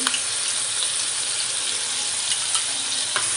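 Ground spice paste sautéing in oil for a Konkan-style teri (taro) leaf vegetable, giving a steady close broadband sizzle that holds evenly throughout with no talking.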